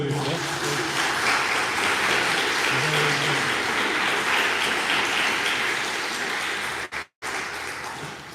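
Church congregation applauding a deaconess at the close of a Sunday worship service, a steady, dense wash of clapping that holds evenly for about seven seconds before cutting out briefly near the end.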